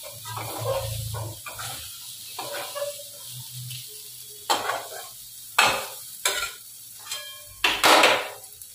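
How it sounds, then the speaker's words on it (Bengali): Fish frying in a pan of cooked-down spice masala, with scattered sizzling bursts, stirring scrapes and clanks of utensils against the pan, close and moderately loud. "এবার মাছগুলো এর মধ্যে দিয়ে দেবো"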